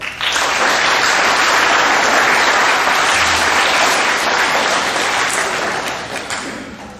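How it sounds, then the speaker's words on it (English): At a middle school awards assembly, the audience gives the football players a sustained round of applause, dense and loud, tapering off near the end. "Let's give these guys a round of applause."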